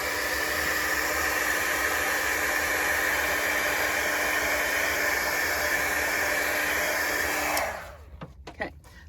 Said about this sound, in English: What I am going to try is just blasting this with a little bit of heat before I do the embossing powder